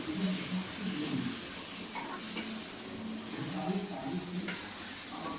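Ginger and garlic fry in butter over high heat with a steady close sizzle and occasional stirring scrapes, while voices talk intermittently on top.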